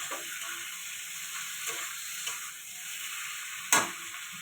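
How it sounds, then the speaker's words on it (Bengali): Water goes into a frying okra and potato curry being cooked with rohu fish, with soft sizzling and stirring followed by a sudden sharp hiss near the end, close up with no talk. "এবারে জল দিয়ে দেবো।"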